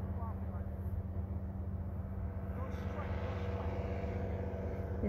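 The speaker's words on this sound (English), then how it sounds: "This is Steven's first time flying his paramotor." A paramotor on its first flight drones steadily overhead, a continuous buzzing engine hum holding at even loudness throughout.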